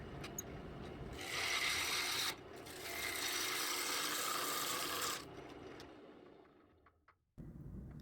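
A half-inch spindle gouge roughs out a wooden bowl on a lathe, taking heavy cuts that give a loud, continuous rasping roar in two long sustained passes with a brief gap between them, then fading out.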